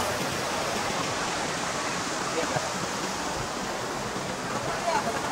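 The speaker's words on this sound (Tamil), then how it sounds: "கீழே ஃபுல்லாக தண்ணி அப்படியே ஓடிக்கிட்டே இருக்கும்" Steady, loud rush of water flowing continuously below, behind a temple, a broad even roar like a stream or small waterfall filling the whole stretch without pause.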